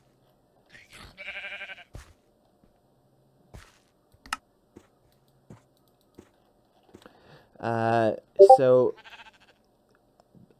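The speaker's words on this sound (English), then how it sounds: "Bighorn sheep, saw that." Bighorn sheep in a modded video game bleat twice, loud and close, with a short pause between calls, after faint clicks and a brief spoken word.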